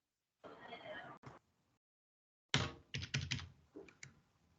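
A few sharp keystrokes on a computer keyboard, pressed in a quick cluster as a shortcut is entered, following a short stretch of speech and a silent gap.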